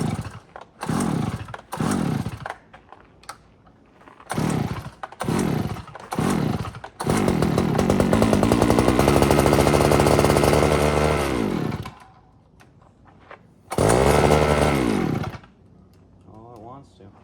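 StrikeMaster ice auger engine being pull-started: several short sputtering bursts, then a loud revving run of a few seconds that dies away, followed by one more brief roar before it cuts out.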